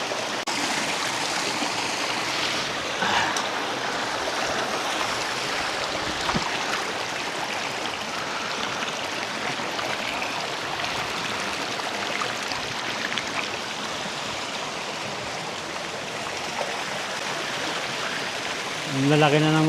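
A strong stream current rushes loudly and steadily toward Hugasan Falls near Tagaytay, a continuous broadband wash of water that fills the whole stretch, with a brief faint voice near the end.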